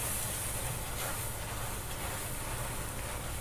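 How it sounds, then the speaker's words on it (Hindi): Milk poured into a hot mohanthal mixture while it is stirred, giving a steady, even hiss and sizzle with faint scraping, continuous and close throughout. "तो ऐसे टाइम पर हम इसमें देखिए दूध डालेंगे और इसको बराबर हिलाते जाएंगे"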